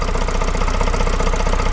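Vauxhall Vivaro 2.0 engine running after an injector replacement, a loud, close, rapid rhythmic diesel clatter at steady idle with no talking.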